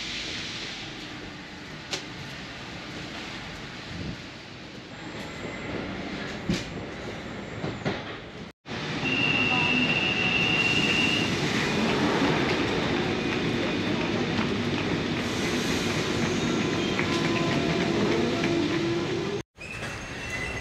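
A London Underground metro train runs in a loud, steady roar with rumbling wheels and a high squeal, broken by two brief dropouts, with faint talk in the background early on.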